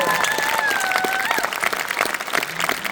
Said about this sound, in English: Can we have a huge, huge round of applause for you guys?